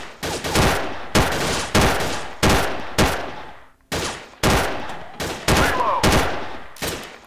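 Allied SMG 26-40 submachine gun in Gun Club VR, fired in about a dozen loud, sharp bursts and single shots with short pauses between, each crack ringing out briefly, no talking.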